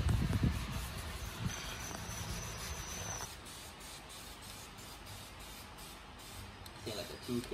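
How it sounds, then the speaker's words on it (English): Broadband hissing of an aerosol spray can painting car wheels silver, sustained for several seconds with short pauses, fairly close and steady. "I'm about to spray these wheels silver"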